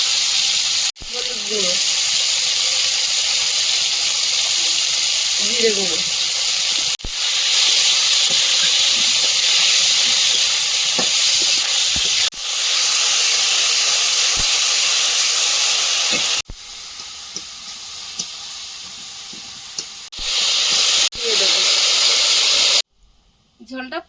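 A pot of fish curry at a rolling boil, a loud steady steam hiss with intermittent bubbling bursts, cut by a few abrupt breaks and fades.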